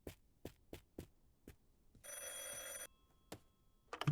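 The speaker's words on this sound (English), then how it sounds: "Phone ringing." A telephone bell rings in one bright electronic burst of just under a second, set among sharp nearby knocks and clicks in an otherwise quiet room.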